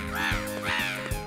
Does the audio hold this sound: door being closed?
no